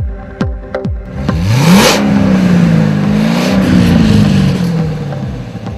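Chevrolet Corvette Z06 V8 revving loudly up close, rising from idle into a sustained roaring sweep that climbs, dips and climbs again, preceded by a few brief sharp clicks, with no voices.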